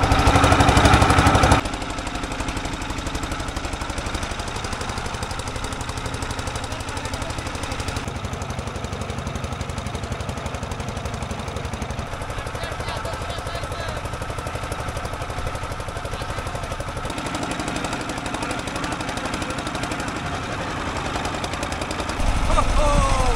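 A trawler boat's engine chugs loudly and steadily up close from the stern while the boat moves along the Madhumati river. The drone continues for the whole stretch without pause and drowns out everything else.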